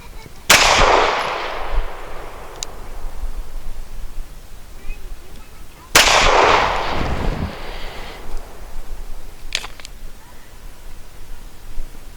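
Two sharp, loud pistol shots from an Arsenal Firearms Strike One, the first near the start and the second about five seconds later, each with a long decaying echo and faint ambient noise between them.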